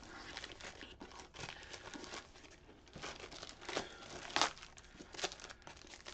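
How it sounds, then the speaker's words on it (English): Plastic packaging is torn and crinkled off a boxed Transformers Legacy Evolution Deluxe Class Magnificus toy, making continuous close crackling and crumpling with a few sharper tearing bursts, quiet overall. "so let's get this plastic removed"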